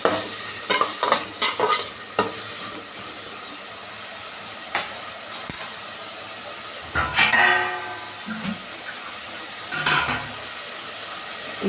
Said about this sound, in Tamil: இப்போ நல்லா வதக்கிட்டு, ரொம்ப வதங்கன்னு தேவையில்லை